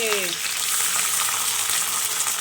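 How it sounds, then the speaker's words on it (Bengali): Soaked chilies crackle and sizzle steadily in hot oil in a home kitchen, a dense, close frying hiss with scattered pops, and a short tonal sound right at the start. "একটু তেলের মধ্যে একটুখানি লঙ্কা দিয়ে দিই, লঙ্কাটা ভিজাতে ছিল, ফটফট ফটফট করে ফাটছে লঙ্কাটা"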